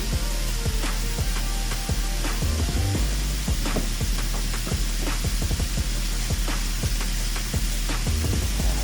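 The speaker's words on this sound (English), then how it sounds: "look at those Brussels sprouts. But they don't take very long to saute." Brussels sprouts sauteing in a hot pan, giving a loud, steady sizzle and frying crackle with stirring scrapes throughout and no talk.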